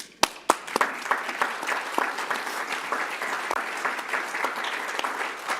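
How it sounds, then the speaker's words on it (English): An audience applauds Bill McKibben at a live Sanders Institute event, steady clapping from many hands that starts with a few sharp claps and holds at a moderate level throughout. "can we just get another round of applause for Bill McKibben?"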